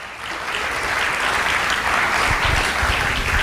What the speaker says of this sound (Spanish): Dale otro aplauso al Señor, por favor.